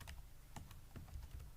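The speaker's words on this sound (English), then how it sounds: "Go to design view, go to tenant name, and then here you type Maroi" Keys clack on a computer keyboard while text is entered into a database field during a computer studies practical, a quick close run of light taps over a faint background hum.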